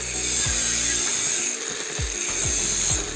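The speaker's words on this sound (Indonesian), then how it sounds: "Kita akan potong menggunakan gerinda tangan dengan mata cutting wheel." A handheld angle grinder with a cutting wheel cuts lightweight steel hollow section, a loud continuous high-pitched whine with small dips in load running right through.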